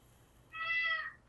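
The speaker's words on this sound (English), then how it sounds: "the kitty cat chiming in is agreeing with us" A single short, clear cat meow, close by and distinct against a quiet indoor background.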